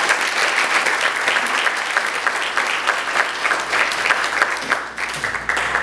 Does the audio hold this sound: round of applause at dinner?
yes